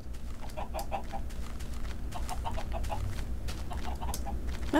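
Chickens cluck in a Minecraft game, a series of short clucks in small bursts repeating over a steady low background hum, fairly faint and with no speech.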